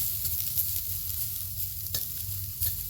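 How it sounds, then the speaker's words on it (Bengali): Mustard flowers fry in ghee in a pan, giving a steady close sizzle with faint stirring scrapes and no talking. "একটু লাল লাল করে হালকা করে ভেজে নিতে হবে ঘিয়ে"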